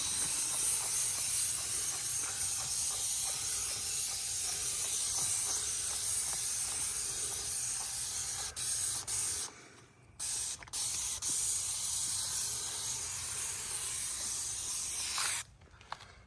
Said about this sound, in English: We're just going to squirt it on real good.